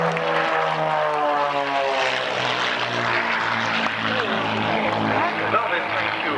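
Propeller aircraft of a group aerobatic display team roll and flick overhead at the 1996 Middle Wallop air show, with several engines droning loudly and continuously, their pitch sweeping and shifting as the planes manoeuvre; a voice talks over the roar.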